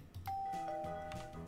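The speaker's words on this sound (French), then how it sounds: "Ah, il y a une sonnette ici." A doorbell in the Minecraft video game rings once, a clean bright chime that holds steady and fades gently, heard alone and fairly quiet.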